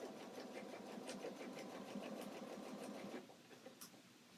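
A sewing machine stitches elastic through layers of fabric for a strapless peasant dress, a faint, steady rapid whirring for about three seconds that then stops, leaving only a few small clicks.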